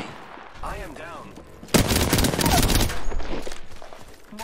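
Enemy gunfire in Apex Legends erupts after a brief voice line, a loud burst of rapid automatic shots that continues for a few seconds before easing off, with game dialogue heard at the start.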